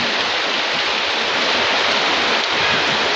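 Heavy rain pours down in a dense, steady hiss, loud and unbroken throughout.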